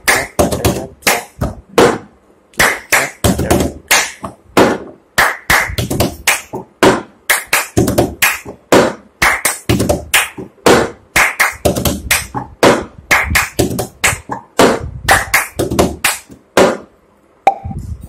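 Hand claps and plastic cup taps play the cup song rhythm on a tabletop. The crisp, close hits fall in quick, repeating patterns with short pauses between phrases.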